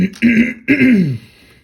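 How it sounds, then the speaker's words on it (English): Two rough throat-clearing coughs in quick succession, close and loud, followed by quiet. "I've been ill over Christmas, as you can hear from my cough."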